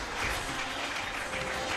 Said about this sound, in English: Let's give them a round of applause as we do this.